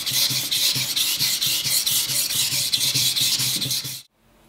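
Gentle sanding of a Castilian knife blade being restored: close, steady back-and-forth rasping strokes in a quick even rhythm, alone, stopping abruptly just before the end.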